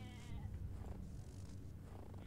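Sheep bleating in the video game Winter, a few overlapping bleats under a steady drone of game music and ambience, close and moderately loud.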